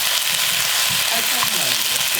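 Garlic frying in oil in a pan while chicken wings are braised in soy sauce, a loud, dense, continuous sizzle filling the whole short stretch, close up.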